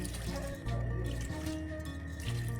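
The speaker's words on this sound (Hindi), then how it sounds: "ये अब हम इसको धो लेंगे मक्खन को। ये थोड़ा सा पानी डाल के" Water poured over a lump of freshly churned homemade butter to wash it, a steady close pour with dripping and trickling in a bowl, continuous and fairly loud throughout.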